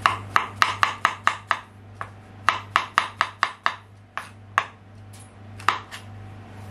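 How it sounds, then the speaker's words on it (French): A kitchen knife chops through mushrooms on a board, a quick run of sharp close taps followed by a second burst and a few scattered cuts, over a low steady hum. "Et les champignons, je vais les émincer."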